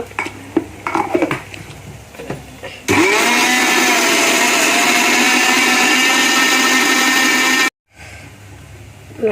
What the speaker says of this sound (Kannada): ಶೇಂಗಾ ಹುರಿದಿಟ್ಟಿವಲ್ಲ, ಈಗ ಮಿಕ್ಸಿಗೆ ಹಾಕೈತೀನಿ